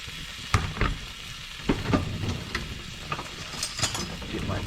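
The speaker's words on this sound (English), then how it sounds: "So I just dump my vegetables in." Vegetables sizzle and fry steadily in a hot pan, with a spoon scraping and tossing them through several sharp clatters against the pan, close and clear with no talking.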